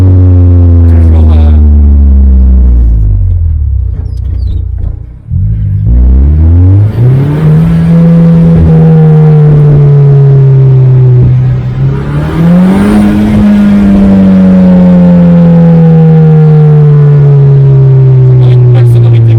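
A SECMA F16 Turbo car engine revs loudly and close, its pitch dipping briefly then climbing in long steady sweeps as the throttle is held and raised again, a continuous buzzing drone throughout.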